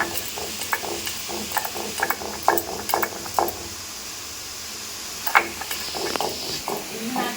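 Poppy seeds ground by hand on a stone slab (shil) for jhinge posto at home, giving rhythmic scraping and gritty grinding strokes in short bursts with brief pauses, close and fairly quiet.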